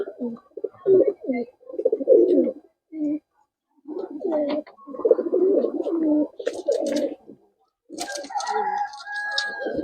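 Murshidabadi Tumbler pigeons coo in repeated low, throaty bursts close by, with short pauses between phrases and a few higher calls and rustles near the end.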